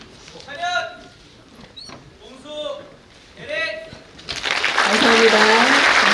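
Applause bursts out loudly at a Korean high school graduation ceremony and carries steadily to the end after several short spoken phrases through a hall microphone.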